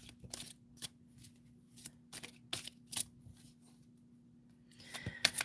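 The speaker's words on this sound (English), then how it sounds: "Okay, V, I'll pull a card for you" A deck of cards being shuffled before a tarot-style reading, with repeated bursts of riffling and card slaps at close range against a steady low hum, growing busier near the end.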